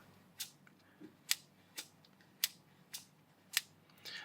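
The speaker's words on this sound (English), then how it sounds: "Let's just flip this open. That's not really a satisfying click, but it does the job." Sharp clicks from the cheap plastic flip lid of a Powkiddy V90 handheld console, a GBA SP-style clone, being opened and snapped, about seven distinct close clicks spaced irregularly in quiet room tone.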